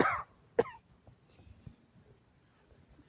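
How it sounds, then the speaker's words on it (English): A single sharp cough from a woman at an outdoor country yard sale, close and fairly loud, followed by quiet rustling and faint background noise. "you're going to hear me cough"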